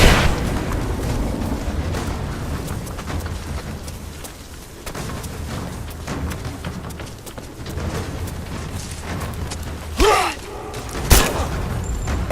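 Explosion in Rise of the Tomb Raider's Abandoned Mines: a steady rumbling game soundscape, then a sharp blast near the ten-second mark and a second brief burst about a second later, both loud and close.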